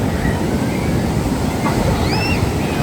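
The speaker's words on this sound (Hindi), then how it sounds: "लहरें बड़ी तेज़ तेज़ आ रही हैं," Strong sea waves crash and roar continuously at a beach in the UK, loud and close, with wind buffeting the microphone and faint higher tones drifting over the surf.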